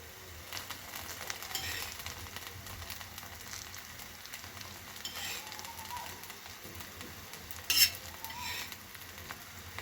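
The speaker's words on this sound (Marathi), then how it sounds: "आता जी आपण भेंडी जी फ्राय केली होती ती भेंडी आता याच्यामध्ये घालत आहोत" Fried okra tossed back into a pan for a Marathi-style bhindi bhaji, with a utensil stirring it amid a soft, continuous sizzle. The stirring and scraping stay quiet and fairly distant, with one brief sharper clink near the end.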